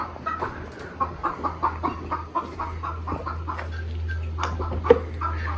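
Chickens on a homestead farm cluck in repeated short calls, close by and fairly steady, over a low constant hum, with one sharper squawk near the end.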